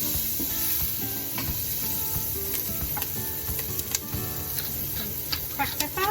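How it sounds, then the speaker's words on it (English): Herbs such as oregano and thyme are stirred in a pot of Tuscan soup, with a soft sizzle under scattered clinks and scrapes of the spoon, close and moderately quiet. "Stir that up. Let it cook for a couple of minutes."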